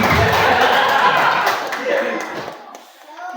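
A group of teachers claps together in a classroom session, dense sustained applause with some chuckles that fades toward the end.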